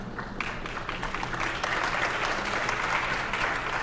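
A crowd at a Brooklyn community gathering on African American freedom and leadership applauds, a dense, steady wash of clapping that holds at an even level for the whole stretch.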